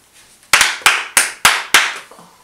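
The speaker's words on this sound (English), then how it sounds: "Okay, Aiden, clap." Five sharp, evenly spaced hand claps ring out close and loud, one person clapping alone with a short pause before each.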